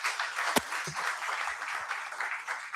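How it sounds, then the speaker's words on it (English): Applause from an audience of students and parents at a BBA induction programme, a dense steady wash of many hands clapping together for a few seconds, fairly distant and diffuse. "I want all of you to clap just for a second."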